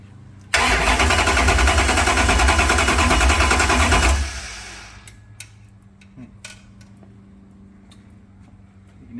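A 512 ci big block Mopar V8 cranks and fires, roaring loudly for about three and a half seconds before cutting off abruptly, leaving faint ticks and clicks in a quiet shop.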